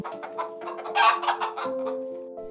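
A hen clucks in a string of short, close bursts, rising briefly in the middle, over a faint steady hum.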